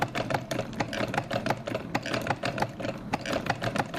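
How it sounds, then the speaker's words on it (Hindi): A sewing machine stitching a homemade fabric mask runs at a quick, even clatter of needle strokes, close and steady the whole time, with no talk over it. "अब करो सिलाई"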